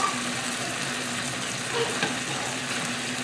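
Chicken pieces browning in a hot pan give a steady, close sizzle and crackle of frying, even and unbroken, with a faint background hum and no talk.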